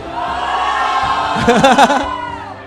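Karaoke show audience answering a host's question, a brief swell of mixed crowd shouts and cheers rising midway over a hall's background murmur.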